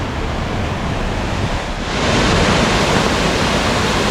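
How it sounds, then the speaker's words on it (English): On a rainy day, rainwater pours down a flight of stairs like a waterfall, a loud, continuous rushing roar that swells noticeably about halfway through, with wind buffeting the microphone. "Big waterfall going down the stairs."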